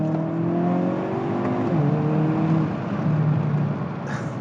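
Inside a Hyundai Kona N with the window open, the engine climbs in pitch, drops briefly at a quick gear change, then pulls again, a loud steady exhaust drone with no talking.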